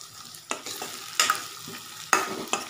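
Onion and tomato frying in a pan, with a soft sizzle under several sharp scraping stirs of a spoon against the pan at irregular intervals, close and fairly quiet, no talking.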